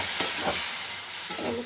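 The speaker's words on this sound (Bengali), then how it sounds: "একটু হালকা জল দিয়ে দিলাম" Water splashed into Kashmiri chili powder and cumin powder frying in a pan for bitter gourd chorchori sets off a steady, close hiss of sizzling, with a few soft stirring clicks and no talking.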